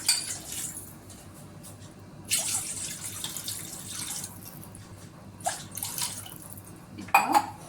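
Water poured into a kadai while making rava kesari, a splashing flow with intermittent clinks of metal cookware, no voices.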